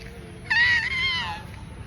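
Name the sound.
child imitating a cat's meow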